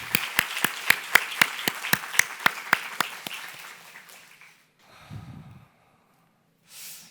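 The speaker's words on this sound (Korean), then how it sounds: "은혜 주실 우리 하나님 앞에 먼저 큰 영광의 박수 올리겠습니다." A church congregation at Sunday worship claps together in an even, steady rhythm of sharp claps that fade out over a few seconds, followed by a soft breath and then quiet.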